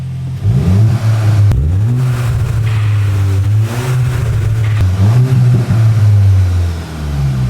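A tuned VW Golf MK8 GTI at about 300 horsepower with overrun activated revs loudly and near, its engine rising and falling through several blips, with crackle and pops on the overrun between pulls.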